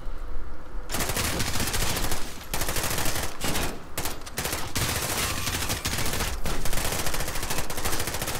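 Dense, sustained gunfire from the video game Modern Warfare, with rapid overlapping shots and bursts running nearly continuously at high loudness, briefly dropping out a few times.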